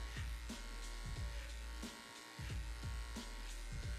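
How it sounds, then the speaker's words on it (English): Electric hair clippers buzzing steadily close up as they cut hair on a scalp in upward blending strokes, with a short dip in the hum partway through as the blade lifts away. "as the clipper goes up, it comes off of the scalp"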